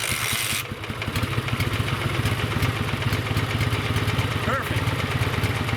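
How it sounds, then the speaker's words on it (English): A cold Dnepr sidecar motorcycle engine starts on the first try after earlier problems, then settles into a steady, loud, close idle with a mechanical clatter. "Now it's time to start this motorcycle"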